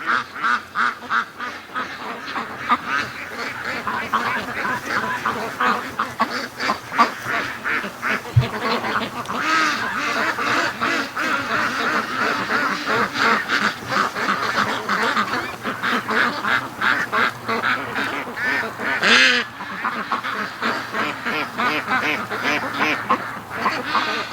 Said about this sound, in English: Yeah, we got a duck trained to the lake.